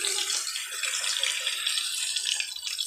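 Water pours in a steady splashing stream into a cooking pot while making Baguio beans, a close continuous trickle with no talk.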